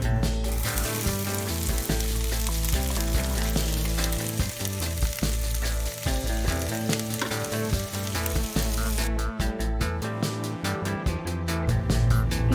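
About a cup of chopped onions, two onions' worth, frying in hot oil, giving a loud, dense, continuous sizzle with steady stirring throughout.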